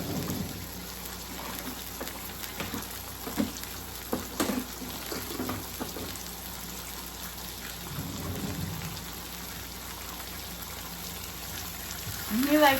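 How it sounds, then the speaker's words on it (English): Breakfast sandwich fillings fry in a pan for a grilled breakfast sandwich, giving a steady crackling hiss like rain, with a few louder pops and spits through the stretch. "And we're just going to start frying those up."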